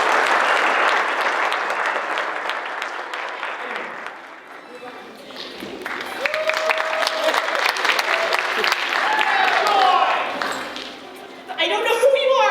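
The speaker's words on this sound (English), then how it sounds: "Give her a round of applause." Community theater audience applauding during a stage performance of a murder mystery comedy, clapping that fades midway as stage sounds and tones take over, then swells again, with voices talking over parts of it.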